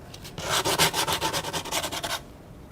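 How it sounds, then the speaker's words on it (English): Sandpaper worked by hand over a craft surface, about a dozen quick back-and-forth rubbing strokes in a steady rhythm, close and fairly soft, with brief quiet before and after. "So we didn't just sand the image, we also sand the surface as well."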